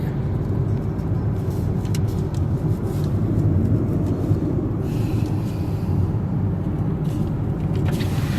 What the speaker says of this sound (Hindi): काफ़ी स्मूथली गाड़ी चल रही है।